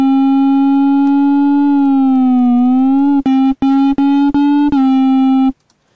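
Synthesizer note in Logic with pitch bend: a steady sustained tone that sags slightly then returns, followed by a rapid run of short stuttered repeats before cutting off, loud and alone.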